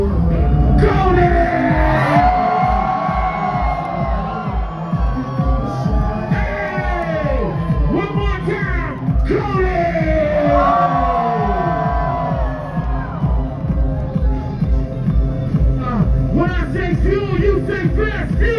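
A large crowd at the Fuel Fest 2022 car show in Phoenix, Arizona screams, whoops and cheers loudly and continuously, with individual shouting voices rising over the close, dense roar.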